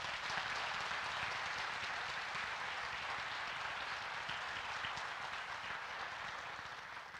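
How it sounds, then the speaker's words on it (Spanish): An in-person audience at a pharmacy training session gives steady, even applause for virtual attendees, a soft continuous patter of many hands that holds throughout and tapers slightly at the end. "vamos a darle un aplauso a nuestros amigos virtuales"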